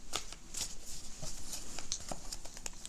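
Tarot cards are shuffled by hand in quick, irregular crisp riffles and slaps, close and clear with no talking over them.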